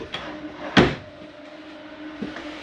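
A drawer in a Jayco Eagle HT 25.5REOK travel trailer slides open with a single sharp clunk, followed by a softer knock a moment later against a quiet interior background.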